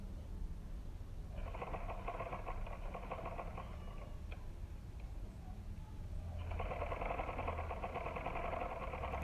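Sewing machine stitching a seam on a baby bootie, soft buzzing runs in two bursts separated by a quiet pause, faint and close.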